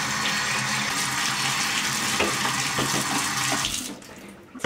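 Tap water pours steadily into a 35mm film developing tank for a rinse, a continuous broadband hiss and splash that runs close and loud before cutting off near the end.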